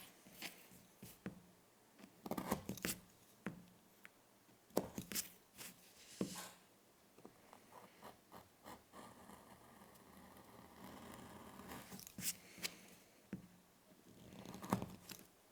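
A blade cuts through 5mm vegetable tan leather for a watch strap, giving irregular close scraping and slicing strokes with small taps and pauses, fairly quiet and without talk.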